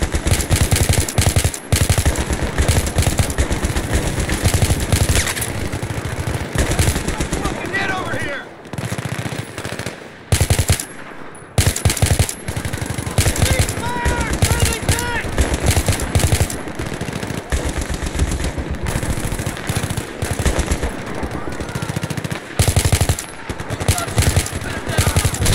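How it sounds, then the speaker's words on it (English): Sustained automatic gunfire in a long gunfight in the Battlefield 3 campaign, loud and nearly continuous bursts with a couple of brief lulls, dense and close throughout. "This is a long ass gunfight though."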